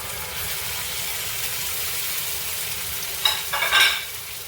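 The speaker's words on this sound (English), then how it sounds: "So that is 4 roasted eggplants getting cooked again" Roasted eggplants being fried a second time in a pan give a steady sizzling hiss that swells briefly louder near the end, with no voices.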